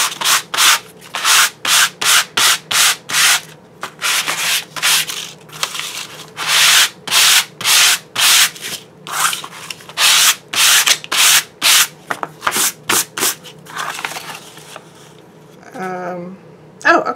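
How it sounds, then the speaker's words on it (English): A sanding block rasps in quick, steady back-and-forth strokes, loud and close, pausing briefly a few times, with a voice speaking softly near the end. "I found a sanding block that I think will work."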